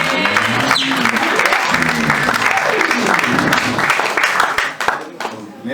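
A church congregation applauding and cheering in acclamation of the Lord, dense sustained clapping filling the room with crowd voices mixed in, before the applause thins out near the end.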